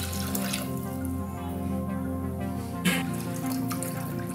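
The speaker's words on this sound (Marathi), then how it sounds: "याच्यामध्ये पाणी टाकून घेऊ" Water running into a cooking pot while making rice for Marathi-style chicken dum biryani: a steady splashing stream continues at an even level, with one brief louder splash near the three-second mark, and no speech.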